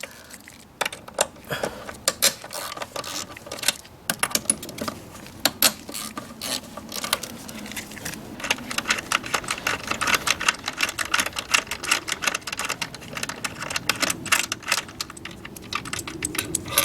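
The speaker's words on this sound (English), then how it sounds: "we're just going to take our 10mm socket and just undo them in a staggered manner" A ratchet with a 10mm socket undoes bolts on a Lexus IS250, sending out rapid, continuous metallic clicking at close range that runs in bursts throughout, with no talking.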